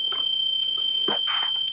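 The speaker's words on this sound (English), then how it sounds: "My fire alarm is going off, gentlemen." A home fire alarm sounds during a remote town selectboard meeting, giving a steady, piercing high tone that holds through the whole moment over faint scattered background noises.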